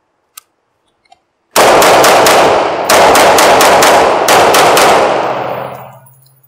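A toy future gun firing, a couple of tiny clicks and then a long, loud, rapid burst of snapping electronic shots with brief pauses, heard close up and fading at the end, with no talking.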